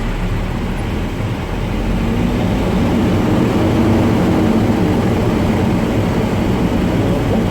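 A City of Watsonville work vehicle's engine runs and is revved, driving its onboard air compressor, a loud, steady, close low drone that holds evenly throughout with no speech.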